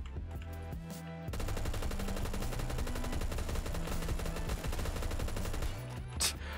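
FAL rifle gunfire in the video game Phantom Forces rattles off in rapid bursts and sustained strings of shots, moderately loud, with game sounds around the shooting and no talk.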